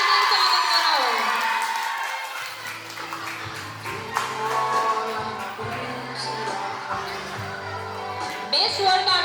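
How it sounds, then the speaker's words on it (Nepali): Crowd applauding, cheering and whooping for an award winner at an anniversary program for a dance and fitness studio, with an announcer's voice talking over the noise at the start. "तारा गुरुङ जोरदार तालीले स्वागत गरौँ"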